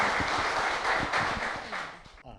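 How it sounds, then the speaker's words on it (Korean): Audience applause at a literary talk event for a poetry collection: a short burst of dense clapping from a modest crowd, fairly soft and fading quickly at the end. "박수 한번 부탁드립니다."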